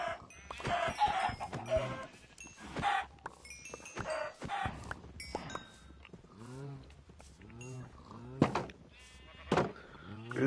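Minecraft farm animals, chickens and pigs, fill a survival world with a busy run of clucks and short animal cries, close and fairly loud, overlapping in irregular bursts with brief quiet gaps.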